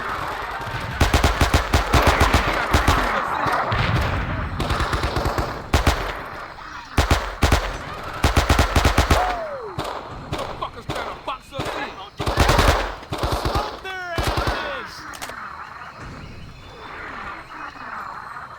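Thompson submachine gun firing in a Vietnam-era video game battle, loud close rapid bursts of automatic fire repeating in clusters, with distant gunfire, shouted voices and battle noise filling the gaps.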